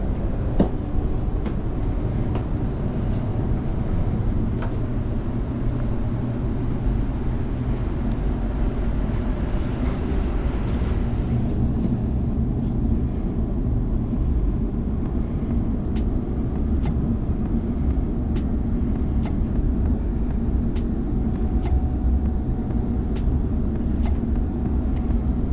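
A Sydney commuter train rides out from Circular Quay station, with a steady low rumble of wheels and motors inside a quiet carriage, faint clicks of the track joints recurring through the ride.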